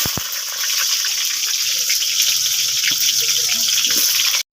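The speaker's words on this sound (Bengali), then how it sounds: "পটলগুলো আগে আমি ভেজে নেব।" Pointed gourd pieces frying in oil for a spicy prawn and potato dish hiss in a loud, continuous, close sizzle that runs steadily before cutting off abruptly at the end.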